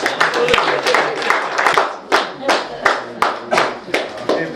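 Audience applause at a Lions Club charter night and installation ceremony in Warangal: a string of sharp, evenly spaced claps, close and fairly loud, with voices talking over them.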